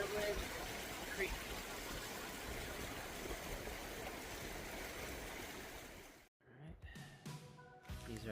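Creek water at Cottonwood Creek rushes in a steady, broad flowing hiss that cuts off abruptly, followed by faint distant sounds and talking.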